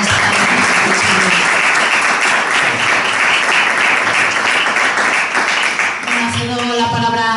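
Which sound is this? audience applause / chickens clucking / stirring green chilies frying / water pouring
audience applause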